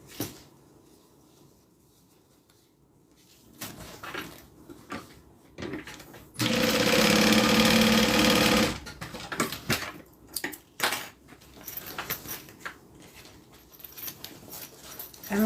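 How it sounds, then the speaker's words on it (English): A sewing machine runs in one steady burst of about two seconds, stitching the side of a zippered bag to its bottom, surrounded by quiet handling clicks and bumps. "Now we're going to sew the side to the bottom."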